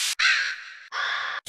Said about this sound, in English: Different bird screeches.